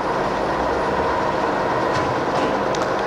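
A Cincinnati horizontal milling machine runs its table feed with a steady, dense mechanical whir and hum, continuous and close, with no talk.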